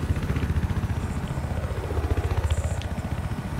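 A helicopter flying in the video game Battlefield 4 makes a loud, steady rapid rotor thump with engine whine throughout, close up and with no talking.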